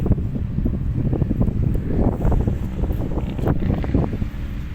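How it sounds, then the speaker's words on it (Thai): Strong, dust-raising wind buffets the microphone at an off-road hill-climb competition in loud, continuous roaring gusts with low rumbling noise and no voices. "ลมค่อนข้างแรงนะครับ ฝุ่นนี่ตลบอบอวนเลย"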